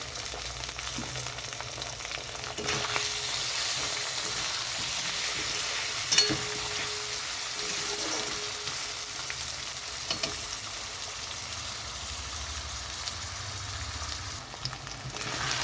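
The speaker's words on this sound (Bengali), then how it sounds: "এখানে পেঁয়াজ আলু একটু ভাজা হয়ে গেছে" Onion and potato fry in a pan with a steady, low sizzle and occasional stirring clinks, continuous and fairly quiet, with no voices.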